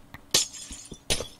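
Glass blocks shatter in the Minecraft video game as they are mined with a silk touch tool, two sharp crashing breaks about three quarters of a second apart, with soft thuds in between.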